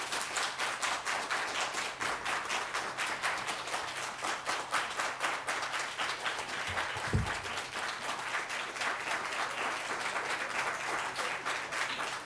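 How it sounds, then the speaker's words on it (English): Warm sustained applause from a conference audience rising to welcome a speaker, dense even clapping that continues steadily throughout with one brief thump near the middle. "let us rise together in a warm and heartfelt applause"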